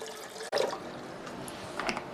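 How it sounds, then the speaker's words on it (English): Bleach poured into water inside cookware during cleaning, a short liquid splash and trickle after a brief pause, close and fairly quiet. "Now I just pour bleach in there"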